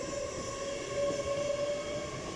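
LNER train, unit 801 224, at Durham station, a steady rumbling drone with a sustained squealing tone from the wheels as it moves past on the platform line, no voices.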